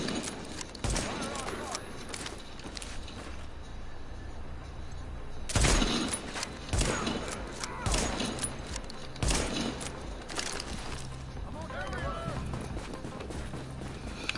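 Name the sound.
shooting at enemies in the video game The Division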